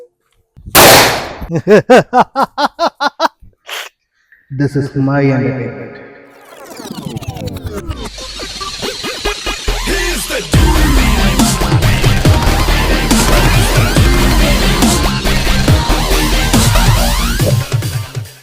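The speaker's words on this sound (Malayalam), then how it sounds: "ചില്ലറ പൈസ പടക്കം" Vishu firecrackers burst in a fast run of sharp pops, then a long, loud stretch of dense crackling and bangs, with voices speaking over it.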